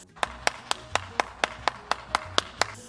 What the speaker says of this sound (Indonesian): yuk tepuk tangan dulu dong buat Tuhan kita